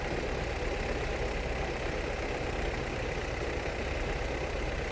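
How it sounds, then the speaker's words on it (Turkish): An Opel Vectra A engine idles at running temperature, a steady, even hum with no change in pitch or level, close and continuous, while a neighbour's car also runs nearby. "Ama motor şu an o kadar stabil çalışıyor"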